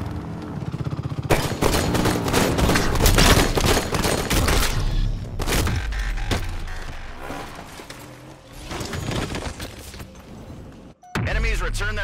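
Enemy gunfire in the Halo 5 video game, rapid bursts of shots and heavy thuds layered over a steady game soundtrack with a voice speaking, before a sudden brief drop and restart.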